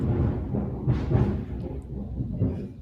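Rolling thunder from lightning over the mountains, a deep continuous rumble that swells and fades across the whole stretch, fairly close and loud with no clear speech over it.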